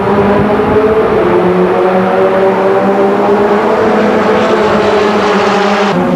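Formula Renault Campus race cars at the start of the final at Magny-Cours: a loud, steady, layered engine roar from several cars accelerating together, continuous throughout with no talking.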